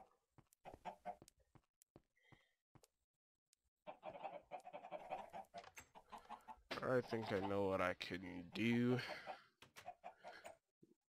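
A chicken in a Minecraft modpack world clucks and squawks in short bursts, mixed in among a man's speech and other game sounds, growing louder toward the end.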